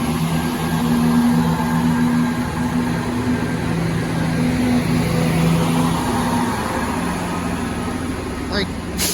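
A diesel train rumbles as it departs North Queensferry station, its engine holding a steady, bus-like drone that stays loud and near, with a voice talking over it.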